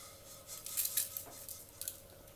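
Roasted urad dal tipped from a kadai onto a plate, giving a short run of light clinking and rattling scrapes of metal and dry lentils, fairly close and soft, with no voices.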